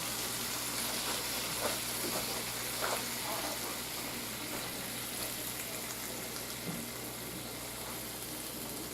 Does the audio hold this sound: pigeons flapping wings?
no